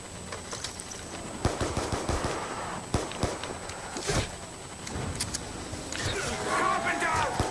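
Gunfire from Black Ops 2 Zombies on a farm map, with scattered sharp shots and short bursts mixed with game effects and a steady background drone, fairly loud and close.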